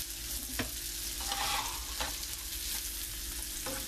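Garlic and onion sautéing in a pan for spinach-sauce spaghetti, with a continuous gentle sizzle broken by a few sharp stirring clicks, close and without talk.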